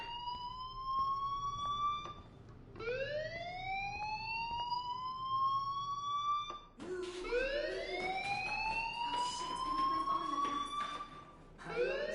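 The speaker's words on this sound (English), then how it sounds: "Hey, do you hear that fire alarm?" An alarm wails in rising sweeps that repeat about every four to five seconds, loud and steady, with a harsher layered tone in the last sweeps and no talk over it.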